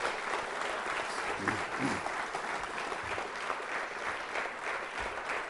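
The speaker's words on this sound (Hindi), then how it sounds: "नजीर अकबर आबादी, उनके सम्मान में श्रद्धा के रूप में तालियां जोरों से बजाइए आप।" A college quiz-show audience claps in honour of the poet Nazeer Akbarabadi, a full, even wash of applause that holds at a constant level across the whole stretch.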